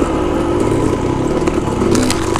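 A Yamaha YZ dirt bike engine buzzes loud and close on a forest trail, holding a steady revving drone with slight surges and no talk.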